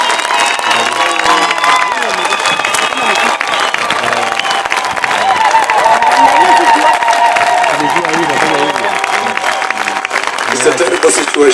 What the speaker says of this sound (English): Can we clap to the Lord?